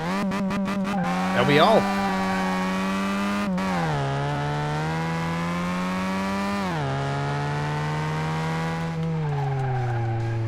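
A car in the Car Mechanic Simulator 2018 racing game revs hard off the start line with a steady loud engine drone, rising and falling pitch, and a brief tire squeal early on, while a person talks briefly over it.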